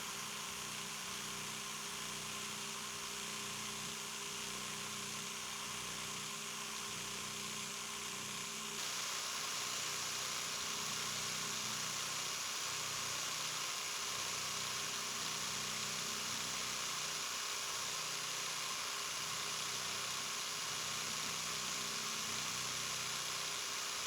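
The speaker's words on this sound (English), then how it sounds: "as the power scraping goes, I'm just making individual lines of scrape marks" Power scraper working across a horizontal boring mill table, a steady buzzing, vibrating motor hum with rapid scraping strokes, continuous and moderately quiet throughout, no talk.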